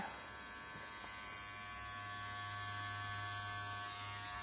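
Electric hair clippers with a half guard cut hair during a textured skin fade, a close steady buzzing hum that holds evenly throughout with no talk.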